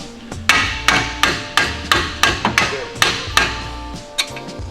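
Sharp, evenly spaced hammer blows from an improvised tool standing in for a hammer during work on a car, about a dozen loud close strikes in a steady rhythm with no talk.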